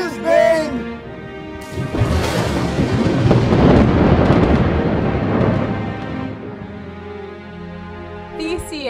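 Stage thunder effect in a theatrical production: a loud, broad rumbling roll that builds over several seconds and slowly fades, with a voice and other sounds just before it.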